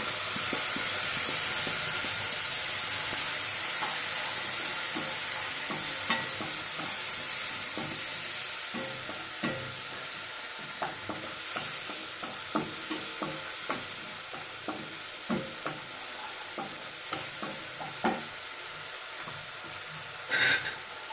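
Tomato puree cooks in a pan for a no-onion, no-garlic arbi curry, giving a steady close sizzle with scraping stirs and clicks throughout and no voices.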